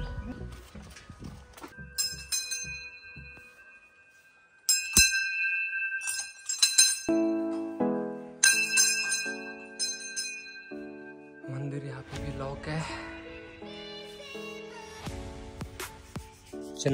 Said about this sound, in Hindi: ये मंदिर की घंटी बजा रहे हैं भाई।